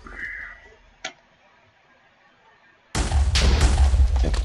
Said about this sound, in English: You're hearing multiple explosions